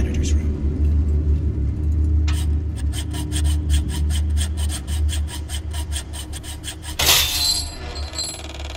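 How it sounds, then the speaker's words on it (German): A metal saw cutting through metal obstacles such as chains or padlocks in a video game, heard as a rapid run of rhythmic rasping strokes with a sharp metallic burst near the end, over a low rumbling background. "Eine Säge wie diese kann vielerlei Hindernisse aus Metall durchtrennen."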